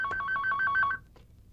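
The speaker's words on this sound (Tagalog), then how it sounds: "Oh, buli-buli, pakisagot yung telepono." A telephone rings in a steady electronic double-tone pattern, several quick rings close and loud, stopping after about a second, followed by a brief soft knock.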